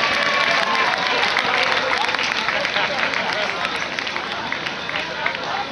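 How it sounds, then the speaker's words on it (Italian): A festival crowd at the Malpaga Metal and Folk Fest applauds steadily and loudly from start to finish, a dense, continuous wash of clapping with a slight easing toward the end, and scattered voices mixed in. "Un doppio applauso per quelli che hanno lavorato oggi."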